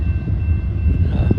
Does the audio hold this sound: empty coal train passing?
yes